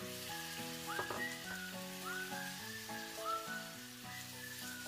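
Chicken sautés in a pan for chopsuey with a quiet, steady hiss of sizzling, heard under a louder whistled melody that carries throughout.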